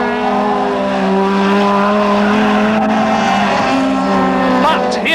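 BMW touring cars battle in Class B at Thruxton circuit during a 1989 British Touring Car Championship round, their engines roaring loud and steady with rising and falling revs, a race commentator talking over the noise.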